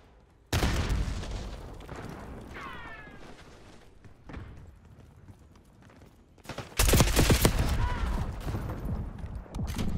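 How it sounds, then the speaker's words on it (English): A frag grenade goes off in a video game shooter as a loud, heavy blast late on, after scattered gunfire and thumps; the fighting sounds close and no voices are heard. "Frag going out."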